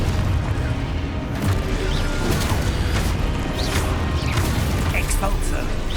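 Confringo fire spell bursting in Hogwarts Legacy, a loud, dense stream of crashing and booming spell impacts with scattered cracks and pops layered over continuous battle noise, a spoken incantation mixed in.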